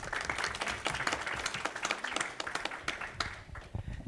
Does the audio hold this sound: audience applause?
yes